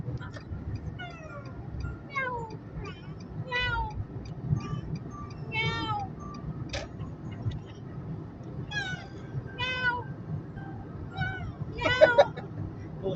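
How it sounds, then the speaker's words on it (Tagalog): A kitten meows repeatedly, with many short, rising-and-falling cries at uneven intervals, close by. A low rumble of background noise runs underneath, and some cries come quicker and louder near the end. "pusa, kuting."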